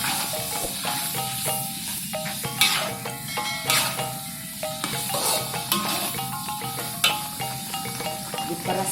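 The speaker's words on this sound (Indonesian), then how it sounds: "kita masukkan santan, kita aduk dulu" Chili sambal with coconut milk being stirred in a pan, a steady bubbling sizzle with scraping strokes and occasional clinks of a utensil against the pan, close and continuous with no talk.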